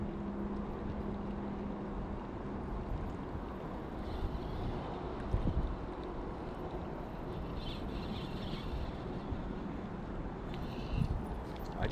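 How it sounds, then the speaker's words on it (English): Wind blows steadily at a lakeside point, making a constant broad rushing noise and low rumble against the microphone with no clear gusts. "the wind's blowing right at us still"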